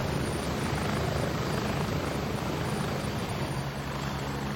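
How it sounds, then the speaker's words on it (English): A helicopter in the military shooter game Gray Zone Warfare drones with a steady, loud rotor roar that fills the whole stretch without pause. "I can barely hear you over the chopper."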